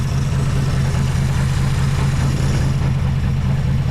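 The engine of a 1963 Plymouth Belvedere, left sitting since 1978, idles loudly and close, a rough, throbbing low rumble that runs steadily with no voices.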